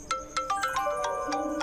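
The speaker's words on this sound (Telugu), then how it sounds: "అమ్మ కాల్ చేస్తుంది" A mobile phone rings with an incoming call, a bright repeating melodic ringtone of short stepped notes, fairly close and clear with no talk over it.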